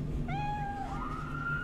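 A sphynx cat in the Cyberpunk 2077 game gives one clear, drawn-out meow that bends upward toward the end, heard alone over a low, steady city hum.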